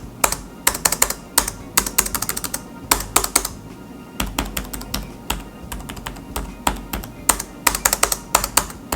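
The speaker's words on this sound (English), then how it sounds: "it also makes a completely different sound from any of the other keys, both louder and hollower than its fellows" Fast, uneven typing on a ThinkPad 11e laptop keyboard in bursts of crisp clicks, with the spacebar's occasional louder, hollower thump standing out among them.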